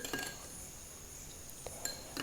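Glass clinks and light knocks as an airtight glass bottle is handled for storing homemade rose cream, a few quiet, brief taps spread over a couple of seconds with no voices.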